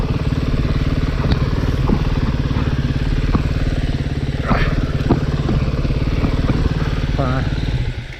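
A 2022 Sherco 300 SE Factory dirt bike engine runs steadily and loudly close by throughout, with a continuous throbbing hum, faint clatter and a voice briefly heard over it.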